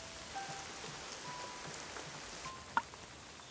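Steady rain hisses across the whole clip, a dense wash of drops with one sharp drip standing out near the end.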